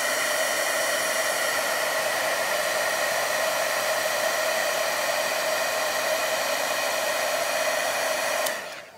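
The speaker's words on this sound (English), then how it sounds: "This is the other heat gun I was talking about." A heat gun blows hot air steadily for embossing a card, a loud, even rushing whoosh that runs without a break for about eight and a half seconds before cutting off abruptly.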